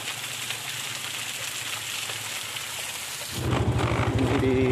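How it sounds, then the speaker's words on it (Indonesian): Steady rushing water roar from the Anakan waterfall fills the scene, broadband and constant, growing louder and fuller partway through as the falling water dominates. "Ada air terjun Anakan, kawan."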